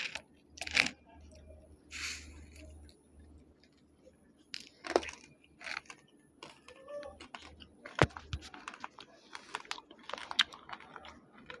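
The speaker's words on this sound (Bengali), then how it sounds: "চাউল ভাজি দেখেন কেমন করে খাইতেছে পলিথিনের মধ্যে দিছি তো" A monkey eats puffed rice out of a plastic bag, giving close, irregular crinkles, rustles and small crunchy clicks that come in scattered bursts, with no talk over them.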